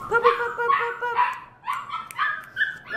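A Shepadoodle puppy barks and yips in short high-pitched bursts, several quick yaps in a row, close by and fairly loud.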